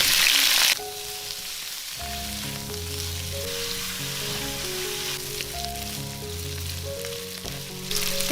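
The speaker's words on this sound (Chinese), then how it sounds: "把姜粒放进来爆香，加入牛腩炒干水分" Beef brisket and diced ginger stir-fry in hot oil with a constant loud sizzle and crackle, spitting sharply at the start and end, with background music playing underneath.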